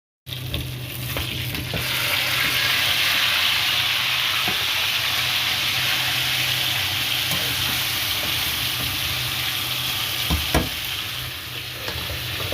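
Malai boti meat frying in a pan, a loud continuous close-up sizzle and hiss that holds steady throughout, with faint occasional clinks of stirring and no speech.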